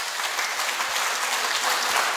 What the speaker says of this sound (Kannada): ತಟ್ಟಿ ನೋಡೋಣ ಒಂದು ಸಾರಿ ಜೋರಾಗಿ ಚಪ್ಪಾಳೆ.